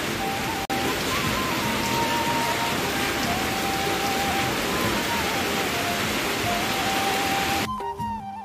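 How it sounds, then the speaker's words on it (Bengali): Heavy rain pours down without a break, a loud, even hiss of drops on surfaces that stops abruptly near the end. "দেখো আবার নেমেছে ঝমঝমিয়ে বৃষ্টি।"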